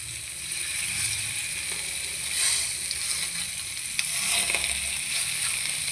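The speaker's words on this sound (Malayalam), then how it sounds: "മത്തി പൊരിക്കാൻ വെക്കുന്നത്." Sardines frying in a pan, a steady broad sizzle of hot oil running throughout with faint occasional crackles, no talking.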